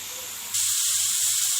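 Minced meat frying in a pan with no added fat, a steady close sizzling hiss that grows louder after a brief quieter start, with low clatter underneath.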